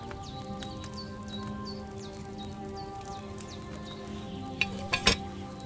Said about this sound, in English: Hear that bubbling? It's boiling.